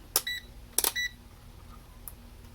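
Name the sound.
multimeter continuity test beep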